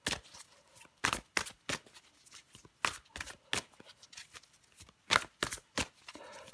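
Tarot-style cards are shuffled and drawn for a reading, giving close, crisp riffling bursts and sharp flicks that come in irregular clusters with quiet gaps between.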